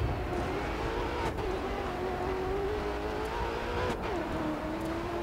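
A rally car's engine drones steadily and loudly while racing in DiRT 4, its pitch rising and falling through gear changes, with a couple of brief sharp shifts along the way.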